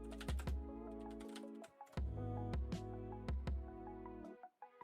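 Quick clusters of computer-keyboard keystrokes tap out close and clear over a continuous musical backing, pausing briefly between bursts.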